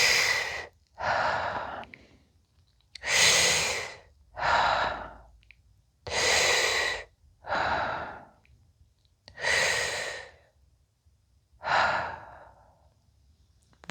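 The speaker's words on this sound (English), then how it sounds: "And now breathe 6 times." Deep, slow breaths during fascial exercises: eight long, loud inhales and exhales alternate evenly over about fourteen seconds, close and alone with quiet gaps between them.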